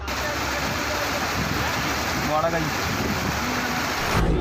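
Heavy rain during flooding makes a dense, constant roar of rushing water, loud and unbroken throughout, with a voice speaking briefly over it.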